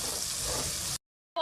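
Onion with garlic-ginger paste fries in a pan for aloo gobhi, giving a close, steady sizzle for about a second before it cuts off abruptly, then a short burst returns.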